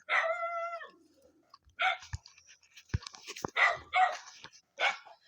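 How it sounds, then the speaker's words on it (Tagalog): A dog barks repeatedly, sharp yappy barks in uneven bursts, fairly close, with some clicks and knocks between them. "Yung aso mo, tumatahol!"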